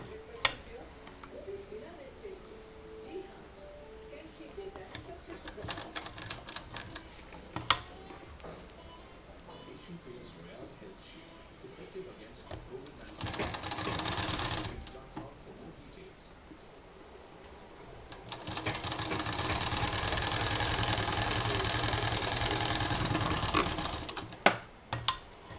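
A sewing machine stitches the edge of a bed cover made from a saree, running in two sustained whirring bursts, one short and one long, after quieter handling and ticking sounds.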